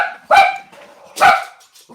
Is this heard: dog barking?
yes